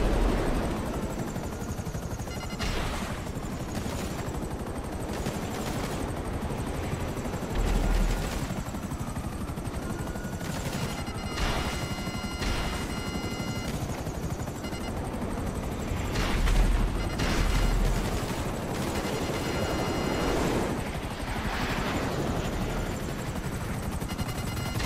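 Helicopter flying in GTA 5 Online, a steady rotor and engine drone held throughout, with bursts of gunfire-like impacts and game effects rising now and then over it; no talk.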